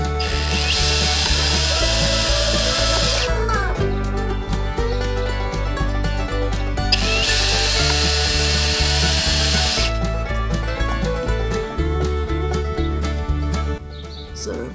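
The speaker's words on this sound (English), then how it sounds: "It's just easier to drill like this, but it makes a better hole for drainage" A power drill whirs loudly in repeated bursts, its motor pitch shifting as it bites through a hard plastic container making drainage holes, with brief pauses between holes.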